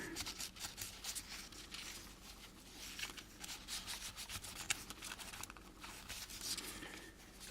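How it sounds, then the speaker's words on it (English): Fine sandpaper rubbing over a part of an Arii Ghost Box plastic model kit to smooth mold injection marks, a close, continuous dry scratching in quick back-and-forth strokes. "And I will just use some fine sandpaper right here."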